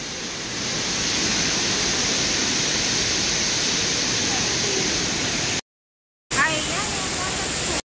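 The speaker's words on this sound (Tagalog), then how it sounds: "nandito na tayo sa isang waterfalls" A waterfall at Bird Paradise in Singapore pours with a steady broadband rush, loud and continuous, cut by a brief silence before the roar resumes.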